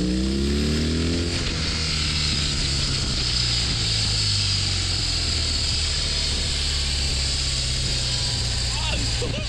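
A BMW R18 motorcycle engine revving up loud and close, a rising rumble that settles into a steady, heavy roar for several seconds.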